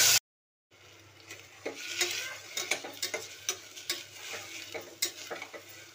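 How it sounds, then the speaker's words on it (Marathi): Rice sautéed in ghee for coconut rice: after a brief cut, repeated close ladle scrapes and taps on the pan over a light sizzle, in an uneven steady rhythm. "तांदूळ थोडे वेळ परतवून घेऊया तुपामध्ये"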